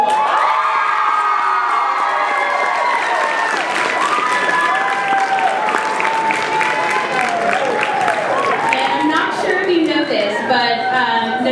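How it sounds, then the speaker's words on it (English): A crowd at a Junior State fall state gathering in Orange County gives a sustained round of applause for the students of Valencia High School, mixed with cheers, whoops and shouting that rise toward the end. "Let's give a round of applause to Valencia High School."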